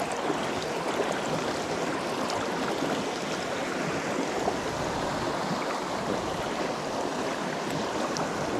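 Fast-moving stream water rushing steadily and loudly, a dense continuous wash of flowing water with no voices.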